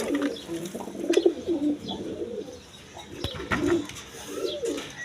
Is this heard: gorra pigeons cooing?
yes